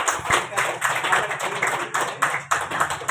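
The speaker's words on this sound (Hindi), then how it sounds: "जोर से ताली बजाते हैं" An audience at a workers' education and awareness gathering claps in steady, rhythmic bursts, a moderately loud patter repeating every fraction of a second, with some voices mixed in.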